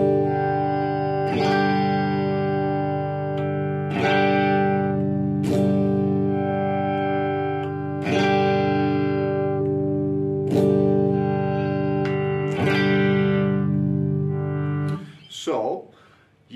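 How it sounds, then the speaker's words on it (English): Fender Vintera 50s Stratocaster electric guitar on the bridge pickup with the tone control rolled back, strummed chords ringing out about every one to two seconds, sustained and loud, ending with a brief sliding squeal. "if you like that bridge pickup, but it's just a bit too bright and a bit too bitey, just roll off that tone a little bit"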